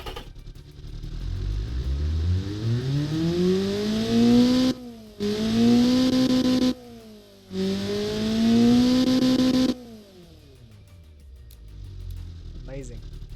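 A tuned Ford Transit engine revs hard toward 7700 RPM in three rising sweeps, each cut off by a brief drop at gear changes. The engine note is loud and close, with mechanical clatter, and quieter engine sound comes before and after.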